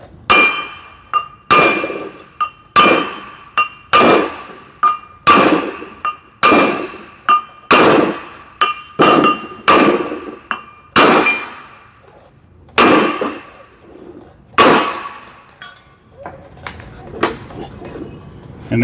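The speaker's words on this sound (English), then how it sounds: "you actually have to hit the rotor off of the hub" Repeated metal-on-metal hammer blows strike a brake rotor on the hub of a 2017 Ford Transit 350, about a dozen sharp, ringing clangs at a steady rhythm, loud and close, with a few brief pauses.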